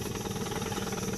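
Boat engine running steadily at close range on a fishing trip, a dense rumbling drone with a fast, even pulsing throb and no voices.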